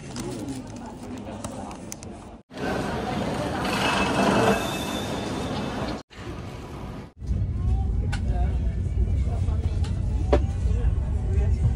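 A passenger train running between Berlin and Hamburg, heard from inside the carriage as a steady loud rumble and roar with wheel squeal, brief drops in level as it passes through, and faint chatter in the background.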